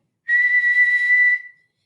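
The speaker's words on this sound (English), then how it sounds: "when I blow my whistle, you kick off from the ground hard, said Madam Hooch." A single sharp whistle blast, shrill and steady for just over a second, then cut off into silence.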